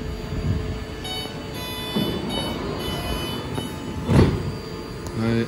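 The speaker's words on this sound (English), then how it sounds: "It called 3-door Richmond train leaving Bayfair Station." A BART eight-car, three-door Orange line train to Richmond pulls out of Bayfair Station, a steady rumble with faint wheel squeal and a louder surge of rolling noise near the end.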